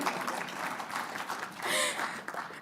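Audience applause at a talk on Housing First and landlords, a broadband patter of many hands clapping at moderate level, swelling briefly near the end.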